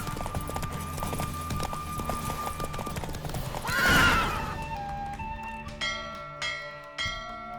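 Roach, a horse in The Witcher 3 race, gallops with steady clip-clop hooves and a neigh, while bells ring out in the final seconds.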